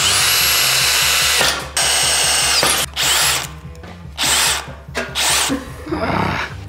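A cordless power drill whines at high speed in several bursts, the first long and steady, then shorter spurts with brief pauses between them, close by.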